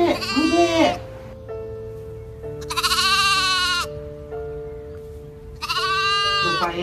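A lost sheep bleats three times, each long wavering cry spaced a second or two apart over a sustained musical backdrop, loud and near.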